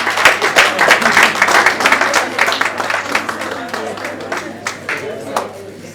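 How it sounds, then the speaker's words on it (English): Applause from an audience at a 2022 distributors' award presentation in Nigeria, a burst of clapping with distinct sharp claps that gradually tapers off, with a voice heard over it. "So please clap for them. Let's clap for them."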